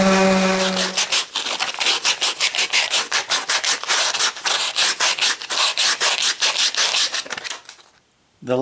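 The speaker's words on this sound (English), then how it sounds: "we're just going to give it a light sanding with the oscillating sander" Wood is worked with an oscillating sander, rough rasping strokes repeating in a rapid back-and-forth rhythm up close and loud, briefly preceded by a tonal hum and ending in near silence.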